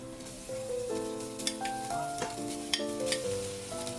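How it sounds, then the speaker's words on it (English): Rice is stir-fried in a pan with garlic for spicy green chili fried rice, a soft continuous sizzle with a few sharp scraping stirs, partly under background music. "Then put the rice into the pan."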